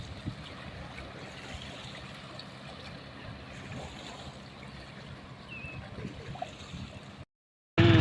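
Fast floodwater from heavy rain rushes past in a steady, broad roar, close and unbroken for several seconds before cutting off abruptly near the end.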